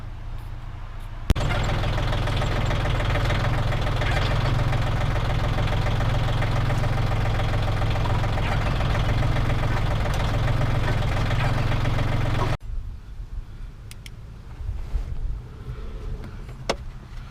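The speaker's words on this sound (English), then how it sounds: "So let's warm the machine up." A John Deere tractor's diesel engine idles steadily while warming up for a long stretch with a low, knocking rumble, then cuts off, leaving quieter ambient noise and small clanks.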